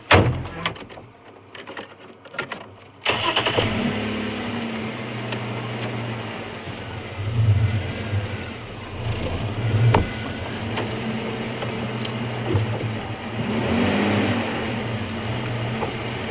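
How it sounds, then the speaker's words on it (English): A safari vehicle is driven a short way during a sunset game drive in the African bush: after a brief quiet stretch, a low engine rumble starts and holds steady, swelling slightly as the car moves. "I'm going to move the car a little bit closer so you're going to be able to hear me easily."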